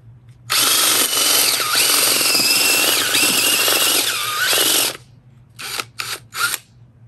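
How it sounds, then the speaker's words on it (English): A power drill turns an auger that bores into garden soil for a 4-inch pot. It whines loudly for about four seconds, with its speed dipping and rising, then fires three short bursts. "This auger is just the right size for a 4-inch pot."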